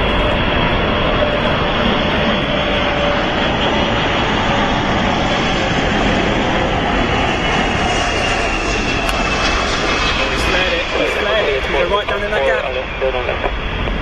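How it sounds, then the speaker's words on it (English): A Boeing 747 jet aborts its landing approach and goes around, its engines roaring loud and steady throughout, with people talking over the sound. "Straight in with another 747"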